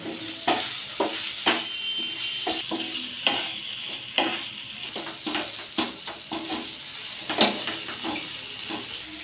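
Chana masala with chopped tomato and turmeric being stirred in a frying pan, a steady hissing sizzle broken by repeated rhythmic scrapes and clinks of the spoon, close and fairly loud.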